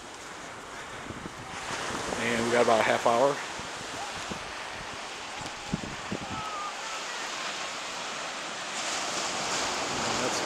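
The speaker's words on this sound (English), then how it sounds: "Sorry about the wind." Strong wind buffets the microphone at Playalinda Beach near rocket launch pad 41, a continuous rushing roar with surf noise beneath. A person speaks briefly early on.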